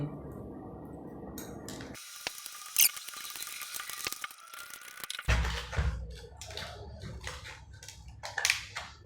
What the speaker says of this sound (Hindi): इसमें 24 पीस का ये सेट है, आपके सामने इसे मैं खोलता हूँ।